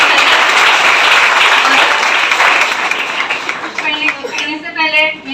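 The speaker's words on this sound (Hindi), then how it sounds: "तो एक बार प्रभा सर के लिए जोरदार तालियां होनी चाहिए।" Loud audience applause after a business presentation, many hands clapping at once and thinning out toward the end as a voice begins speaking over it.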